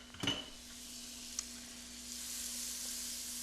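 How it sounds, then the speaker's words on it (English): Two tablespoons of butter sizzle in a pan, a steady soft hiss of frying that builds slightly over a few seconds, with a clink of a utensil against the pan near the start and another faint tap later. "Get that all nice and sizzling in the pan."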